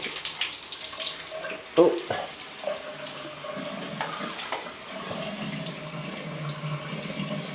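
A hotel rainfall shower runs with a steady, splattery hiss of water hitting the floor, fairly close. It follows a brief knock, and a voice briefly exclaims.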